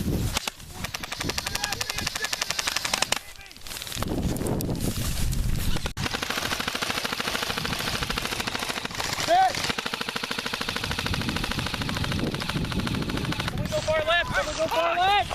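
Airsoft guns fire in rapid bursts and single shots during an outdoor airsoft battle at a park, a nearly continuous crackle of near and distant shots with players shouting over it.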